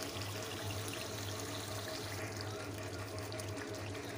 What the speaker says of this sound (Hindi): अब थोड़ा सा मैं इसमें पानी ऐड कर लेता हूँ ताकि हमारा चिकन जो है वो अच्छी तरह गल जाए।